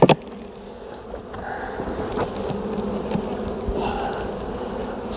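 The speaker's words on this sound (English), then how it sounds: "Full of bees." Dense, steady buzzing of many honeybees close by, a continuous droning hum with a few soft handling bumps at the start.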